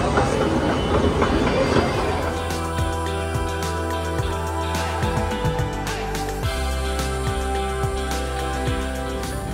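A metro train runs along the track, steady rumble with a rhythmic clickety-clack of wheels over rail joints and a broad hiss, close and loud, without talk.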